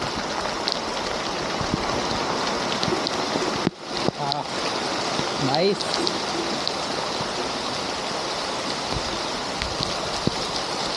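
Heavy monsoon rain in a Konkan village with floodwater rushing along the village road, a loud continuous roar of flowing water with a brief dip partway through and a short spoken word.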